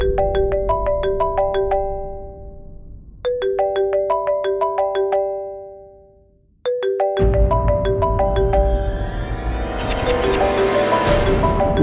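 A phone ringtone for an incoming call plays a bright, repeating melodic phrase three times with short gaps between. On the third repeat it swells into fuller, louder music.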